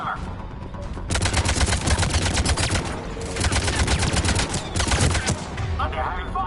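Sustained, loud automatic gunfire rattles in a Mass Effect 3 firefight, dense bursts running almost continuously with brief gaps, close and overwhelming.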